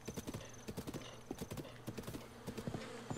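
Horse galloping in the video game Zelda: Breath of the Wild, a quick, rhythmic clip-clop of hooves in repeating bursts, clear and close with no voices over it.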